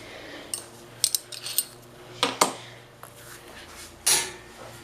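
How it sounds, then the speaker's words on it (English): A 1/4 inch Allen wrench works on the metal horn bolts of a Thunderbolt 1000 siren, giving scattered sharp metallic clinks and scrapes in small clusters, close by with no talking. "now we're going to be using an Allen wrench to get these off"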